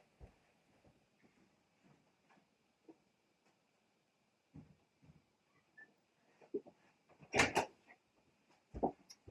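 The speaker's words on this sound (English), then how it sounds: "I'm going to shut the door." A door inside an RV is pushed shut with a few soft knocks and shuffling bumps, ending in a louder thud and a final clunk, close by in a quiet room.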